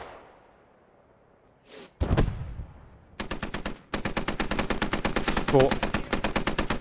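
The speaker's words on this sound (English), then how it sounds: "Machine gun fire going out." Machine gun fire in the video game Post Scriptum: a loud close burst after a few isolated shots, then a long rapid rhythmic stream of rounds, with a faint voice briefly under the firing.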